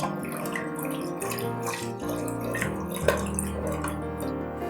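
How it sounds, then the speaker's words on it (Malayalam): Milk being poured a little at a time into a pan and stirred smooth for a kids' dessert, giving a steady close liquid pour with faint stirring and dripping and no talking. "ഇനി ഇതിലേക്ക് 1/2 ലിറ്റർ പാലാണ് നമ്മൾ ചേർത്ത് കൊടുക്കുന്നത്. ഇത് ഇതേപോലെ കുറച്ചായി ഒഴിച്ച് കട്ടകളൊന്നുമില്ലാതെ മിക്സ് ചെയ്തെടുക്കാം"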